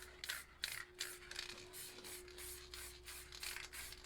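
Black spray paint from an aerosol can misted lightly over a painted surface, heard as a run of short, soft hissing bursts in a steady rhythm, close and quiet, with no talking.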